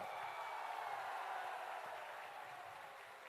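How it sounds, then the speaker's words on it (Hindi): A large crowd at a political rally in Contai, West Bengal, claps in sustained, dense applause that stays steady and loud throughout before easing slightly near the end. "जोर से ताली बजाओ जरा"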